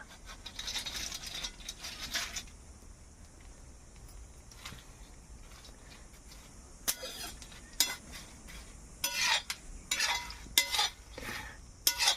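Dry scraping and stirring on a hot griddle over a wood-fired stove, with intermittent bursts of rustling and scratching as green chickpeas are turned over, no voices.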